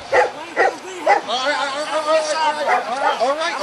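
German Shepherd police dogs bark and yelp in rapid bursts at a G20 protest, close and loud at first, then fading into a continuous hubbub of people talking and shouting.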